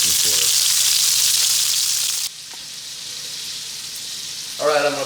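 Meatballs brown in a frying pan with a strong, close sizzle that suddenly drops to a quieter crackle, with brief speech at the start and end.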